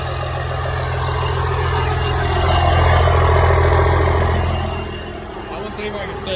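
A Cummins 12-valve diesel engine idles with a steady, close rumble that swells slightly midway through and then settles back.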